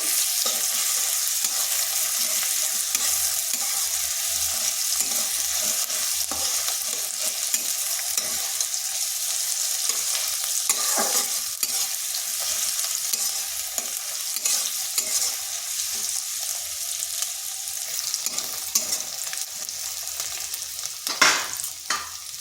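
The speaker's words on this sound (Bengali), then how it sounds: "পেঁয়াজটাকে হালকা ভেজে নিচ্ছি" Long-sliced onions lightly frying in a pan for an egg curry, with a steady, dense sizzle and occasional stirring scrapes, close by and continuous throughout, with no talking.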